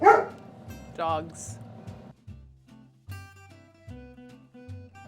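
Dogs bark nearby, a couple of sharp barks early on, while background music plays and a voice briefly speaks.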